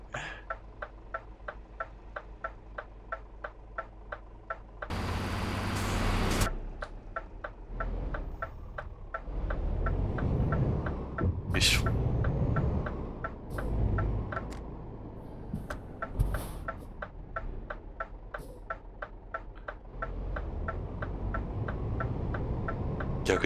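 Night driving in Euro Truck Simulator 2 on a Japan map around Kanazawa at 2 a.m.: a steady, evenly spaced ticking like a turn-signal indicator runs throughout over a low engine hum, with a louder swell of passing traffic noise partway through.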